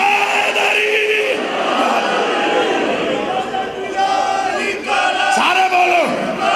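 A large crowd at a religious poetry gathering chants slogans in unison, loud, massed voices rising in sustained waves with a brief dip midway before surging again.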